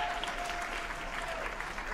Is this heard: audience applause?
yes